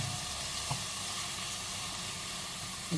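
A green chilli and egg mixture being stirred in a hot pan for egg pulao, a steady close sizzle with a couple of soft scrapes from the spoon.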